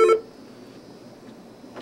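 A phone gives a short, bright electronic beep near the start, then goes quiet under faint room tone, with a soft blip just before the end.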